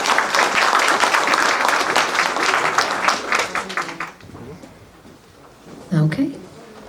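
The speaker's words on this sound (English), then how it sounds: "Another round of applause for the Jing family" An indoor audience at a ceremony claps warmly for about four seconds, dense applause that tapers into scattered claps and quiet, followed by a brief voice.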